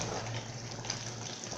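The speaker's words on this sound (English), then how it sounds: "So I'm going to add a little water" A small amount of water is poured into a pot of Ekpang Nkukwuo as it cooks, making a soft, continuous gushing trickle that is quiet and close, with no talking over it.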